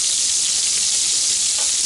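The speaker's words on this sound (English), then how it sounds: "we're going to take our veggies, mixed vegetables of carrots, green beans, corn, and peas, and we're going to put it in here" Mixed carrots, green beans, corn and peas frying in a pan alongside Italian sausage, a loud, close, continuous bright sizzle with a brief stirring scrape near the end and no voices.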